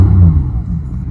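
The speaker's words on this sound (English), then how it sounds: "Nice, smooth, easy revs." A 2015 Porsche 911 GT3 engine revs smoothly and evenly, a close, steady low rumble that eases off slightly toward the end.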